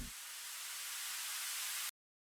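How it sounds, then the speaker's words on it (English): Reversed white noise riser in a dance remix breakdown, a dense hiss that sustains and then cuts off abruptly into silence near the end, alone with no talk. "And that same thing reversed into a riser."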